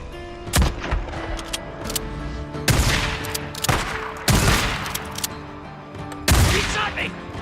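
Gunfire in the video game Days Gone: several loud, sharp bursts of shots at irregular intervals, each ringing out briefly, with a steady in-game background hum between them.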